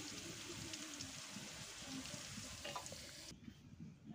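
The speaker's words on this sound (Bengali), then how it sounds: "আলুগুলো আমার ভাজা হয়েছে প্রায়, আর একটুক্ষণ ভেজে তারপরে আমি তুলে নেব।" Potatoes fry in oil in a pan as a quiet, continuous sizzle with small crackles and a few stirring clinks, ending in a softer low bubbling.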